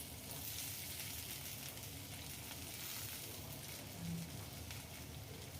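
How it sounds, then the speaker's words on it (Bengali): Vegetables, including aubergine and ridge gourd, frying in oil in a pan for a vegetarian chorchori, giving a steady, close sizzle that runs the whole time with no talk over it. "একটুখানি বেশ লাল লাল করে সবজিগুলো ভেজে নিলাম"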